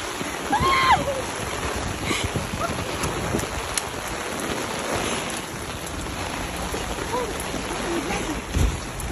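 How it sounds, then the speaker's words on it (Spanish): Heavy rain pours down outdoors in a steady, dense, broadband wash, like rushing water, with a few louder splashes and gusts throughout. "Está lloviendo fuerte."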